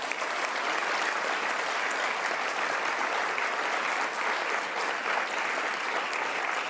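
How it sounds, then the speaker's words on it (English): An audience at a World Meditation Day event at the United Nations applauds Gurudev, a dense, even roar of clapping that holds steady at the same loudness throughout. "Let's give him one more big round of applause."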